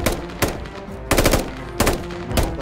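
Bursts of automatic gunfire in the military shooter Squad, a French Foreign Legion squad ambushed by Taliban, with four loud rapid volleys spaced across the moment over a constant background rumble.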